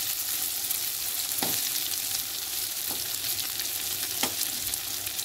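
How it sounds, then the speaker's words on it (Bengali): Soybean chunks, potato and egg fry in a pan over a low flame, a steady even sizzle broken by three short scrapes of stirring, with no voices. "হালকা টু লো ফ্লেমে ভাজছি"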